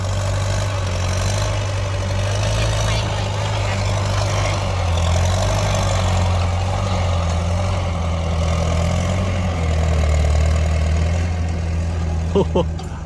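A heavy diesel tractor engine idles steadily and loudly up close, a constant low rumble with a brief clatter near the end.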